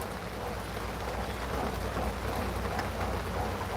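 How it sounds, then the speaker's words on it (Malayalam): Heavy rain pours steadily on a rainy evening with low rumbles of thunder rolling underneath, a dense continuous wash of sound with no voices. "മഴ ഗൈസ് മഴ"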